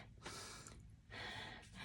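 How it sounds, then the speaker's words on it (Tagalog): Heavy panting close to the microphone, two long loud breaths with a short pause between. "Hinihingal ako, guys."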